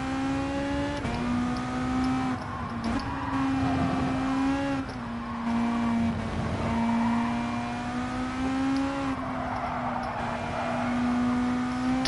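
A race car in Gran Turismo 7 weaves to warm its tyres, the engine note holding steady and rising and dipping through several revs and shifts, loud and continuous with no talk.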